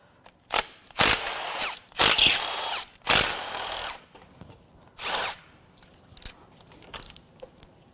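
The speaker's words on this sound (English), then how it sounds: "Next, we're going to remove the oil filter housing and then the oil pump" A power tool whirs in several short, loud bursts, rattling metallically, while taking off the oil filter housing and oil pump of a failed J35Z8 engine from a Honda Odyssey, with quieter clinks between runs.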